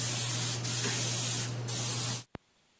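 An automotive paint sprayer coats a lawn tractor frame in loud, steady bursts of hissing spray, with brief pauses between passes, a low hum underneath, then a sudden stop and a short click.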